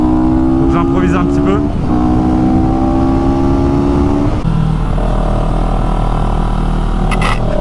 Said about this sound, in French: là je commence sur une CF moto, une CLX 700